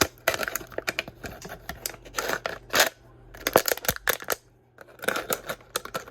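Scissors crunch and snip through a plastic bottle in a series of sharp, close cuts with short pauses between bursts, loud and crisp with no talking.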